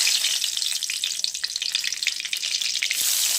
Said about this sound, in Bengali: দিলাম তাতে গোটা জিরে, তেজপাতা